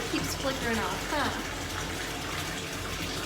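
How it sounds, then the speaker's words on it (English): A bathtub filling with water from the tap at home, with a steady gushing pour running throughout as a voice speaks over the start. "We're just going to fill the tub with water, okay?"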